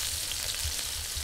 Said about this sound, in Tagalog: ngayon po, umpisahan na po natin yung paggigisa. Medyo po kasi mainit na yung aking mantika.